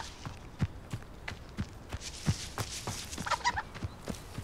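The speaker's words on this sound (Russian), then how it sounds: "Курица." A chicken in the Hogwarts Legacy video game clucks in short, quiet bursts amid soft footstep-like taps and game ambience, faint and fairly close.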